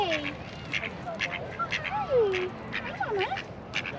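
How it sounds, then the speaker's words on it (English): Mallard ducks quack close by in several short nasal calls with gentler whistling notes between them, while people's voices are faint in the background. "Oh, these are my favorite birds. A mallard?"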